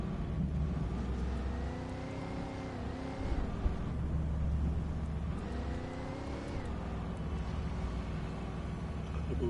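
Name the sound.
beat-up truck driving in the video game Alan Wake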